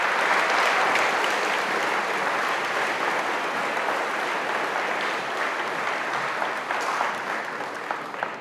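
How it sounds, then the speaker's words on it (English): A school audience at a middle school 8th grade honors and awards program applauds steadily for teachers, a dense, sustained crowd of clapping that fades slightly toward the end. "Please give our 8th grade teachers a round of applause."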